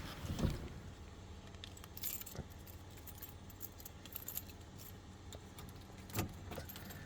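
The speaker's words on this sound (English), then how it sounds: "Grab these keys so we can get this started." Keys jingle faintly in the hand beside a 1940 Cadillac Fleetwood 60 Special sedan, a few soft metallic jangles and clinks scattered over quiet interior background.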